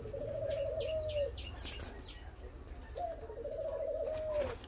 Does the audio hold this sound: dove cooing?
yes